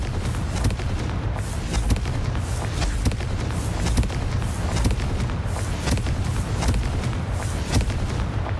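Confringo explosive spell in Hogwarts Legacy firing repeatedly, a dense barrage of loud booming blasts in quick succession over a constant rumbling game soundscape, with no voices.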